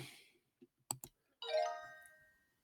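Mouse clicks sound as an answer is chosen in an online physics homework quiz: a few sharp, quiet clicks close together, then a bright chime with a ringing tone rings out in an otherwise quiet room.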